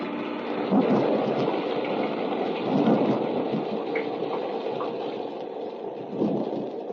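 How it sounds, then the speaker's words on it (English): A thunderstorm sound effect for a 1933 old-time sci-fi radio drama: rain and wind roar steadily, with low thunder rumbles swelling through, no voices. "Tonight, the little valley is whipped by a storm."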